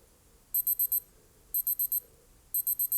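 A Casio G-Shock digital watch, GD350 or W736H, sounds its timer alarm: three bursts of four rapid shrill beeps, one burst each second, loud and clean with no talking.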